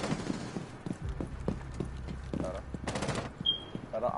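Video game gunfire crackles in rapid bursts beneath a steady bed of low rumble, the shots fairly close but partly masked, with people talking over the action.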